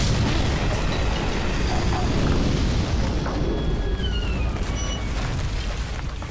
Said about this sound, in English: That was the big explosion?